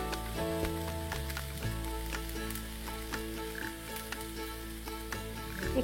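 Egg fried rice with black pepper, salt and soy sauce sizzling and frying steadily in a pan, a continuous crackling hiss with occasional clinks of stirring, no talking.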